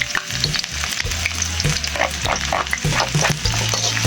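Sliced onion hitting a hot wok and frying, with bright sizzling and crackling oil plus recurring scrapes and clanks of a spatula stirring in the pan, close and steady, no talking.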